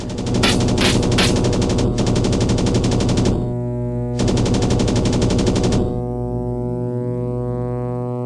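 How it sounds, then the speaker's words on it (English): Machine guns on a fighter plane in the flight-combat game Aces of the Pacific: loud, continuous rattling bursts over a steady droning engine tone, pausing briefly, then firing again before the engine hum carries on alone. "I'm going to shoot you now."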